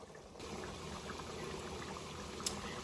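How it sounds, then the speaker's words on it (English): Cheeseburger potato soup with softened potatoes bubbles in a pot on the stove, a faint, steady simmering burble with small pops, heard alone and close. "our potatoes have softened and it's boiling a bit"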